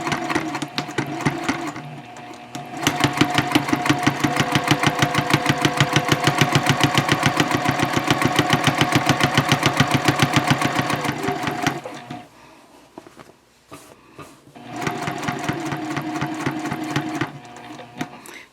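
Sewing machine at stitch length 2.5 topstitching over a previous row on an eco-friendly shopping bag, a loud, rapid, even run of needle strokes in two long bursts with a short quiet pause for pivoting between.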